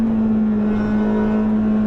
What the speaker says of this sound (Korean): 실내에서 들리는 엔진, 이 캐빈 속을 울리는 엔진음은 엄청납니다.